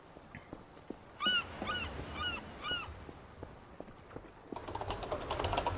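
Seagulls call in Garry's Mod TTT on a lighthouse island: a few harmonic squawks repeat in a rhythmic run, then a denser noisy burst follows, over soft clicking.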